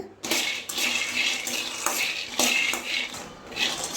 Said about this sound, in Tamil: இப்போ இதையும் போட்டுக்கலாம் இதை நல்லா வறுத்துக்கலாங்க வேர்க்கடலை நல்லா வறுத்துக்கலாங்க